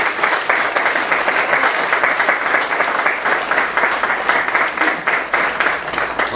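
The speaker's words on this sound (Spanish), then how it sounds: "Un forte aplauso para eles" An audience at a band music festival concert applauds, a dense, steady wash of clapping that carries on without a break and holds its loudness to the end.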